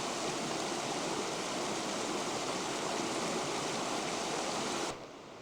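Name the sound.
babbling brook on path to Chatterbox Falls, Alaska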